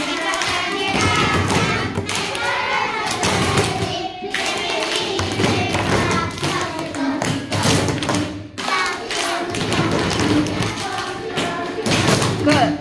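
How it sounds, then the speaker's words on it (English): A class of first-grade children claps hands and taps on tables in a steady repeating book rhythm, loud, even thumps and claps continuing throughout with a group chanting along. "Clap, clap! Table, table, clap!"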